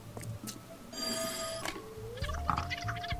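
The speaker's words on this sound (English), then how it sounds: "That Watson gentleman needs to pick up the phone instead" A telephone rings inside the video game There Is No Game, with a bright electronic bell tone over a quiet hum of game sounds and soft clicks, close and moderately faint, with no one talking.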